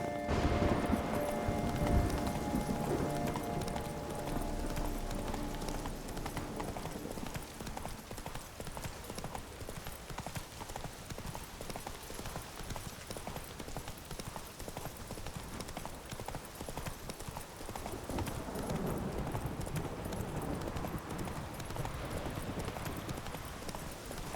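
Roach, the horse in The Witcher 3 video game, gallops with a fast continuous drumming of hooves across the ground, close and steady for the whole stretch, with a brief voice calling out near the start.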